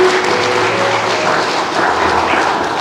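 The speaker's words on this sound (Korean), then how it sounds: "박수 부탁드립니다" Guests at a wedding reception applaud the bride and groom as they bow, a steady dense wash of clapping from a large crowd in an indoor hall, continuous throughout.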